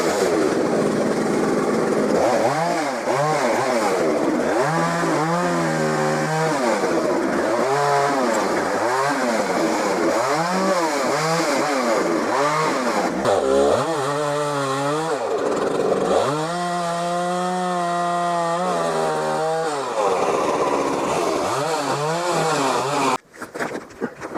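A chainsaw bucks a felled tree into firewood, its engine revving up and dropping back in repeated cuts, loud and close throughout before cutting off at the end.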